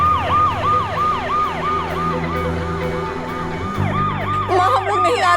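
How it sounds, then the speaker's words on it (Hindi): An ambulance siren wails loudly and close by in a fast repeating up-and-down pattern, carrying on steadily over a low traffic rumble. "माँ, मैं एम्बुलेंस में हूँ, अशु को हॉस्पिटल लेके जा रही हूँ।"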